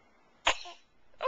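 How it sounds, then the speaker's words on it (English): A baby gives a single close sneeze-cough, one sharp burst followed by a brief start of a second sound, in a quiet room. "is that a sneeze cough?"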